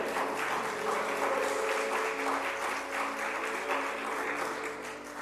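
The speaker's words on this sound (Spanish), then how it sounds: "¿Cuánto pueden dar aplausos a nuestro Señor Jesús?" A church congregation applauds during a Spanish-language sermon, a steady, fairly even round of clapping from many people that continues throughout without pause.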